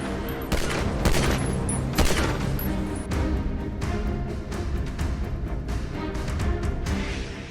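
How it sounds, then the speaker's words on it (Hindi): Gunfire at a cafe in Canada, a rapid string of loud, sharp reports in quick succession over a dense, noisy background. "कनाडा में कपिल शर्मा के कैफे पर फिर फायरिंग।"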